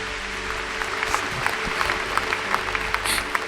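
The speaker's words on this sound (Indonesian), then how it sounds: "Kasih tepuk tangan untuk Tuhan Yesus" Church audience clapping at a miracle service, a steady patter of many hands under a low hum, moderately loud and continuous.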